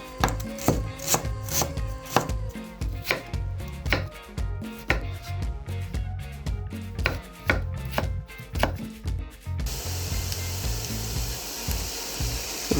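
A knife chops fresh ginger on a cutting board with a fast, irregular run of sharp taps at close range, then stops and gives way to a soft, steady hiss.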